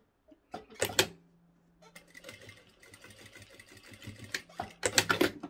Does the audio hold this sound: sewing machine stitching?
yes